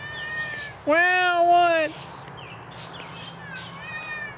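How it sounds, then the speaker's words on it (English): A neighbor's tomcat lets out one loud, drawn-out meow close by, lasting about a second, with a person talking before and after it. "He's kind of annoying sometimes with his meowing"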